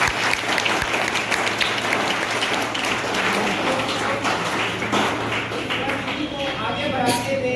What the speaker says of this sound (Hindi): एक बार उनके लिए तो जोरदार ताली होनी चाहिए